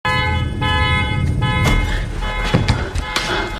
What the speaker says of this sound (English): She takes her car keys out and tries to activate the car alarm but can't do it through the window.